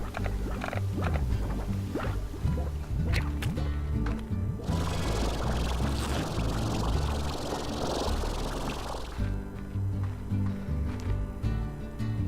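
Water being collected into the tank in the video game Slime Rancher: a steady, loud, rushing pour that runs for about four and a half seconds over ongoing game music, then cuts off.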